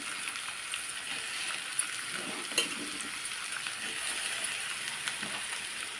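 Ivy gourds tossed into onions frying in a pan give a steady close sizzle, with a few soft clinks and stirring scrapes over a bright, hissing bed of frying.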